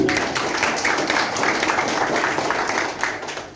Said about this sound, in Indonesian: Tepuk tangan semuanya Bapak Ibu.